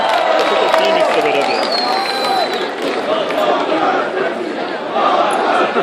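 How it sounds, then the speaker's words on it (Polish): A crowd at a university student festival's wet T-shirt contest cheers and applauds steadily and loudly, with shouts and chatter throughout and a voice over a PA talking above the din. "Wielkie brawa!"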